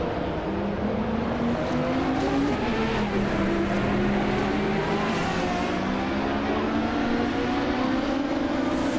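Race car engines roar in a racing video game featuring a 24 Porsche Carrera GT-R, several cars' loud, continuous whines rising and falling together as they race nose to tail.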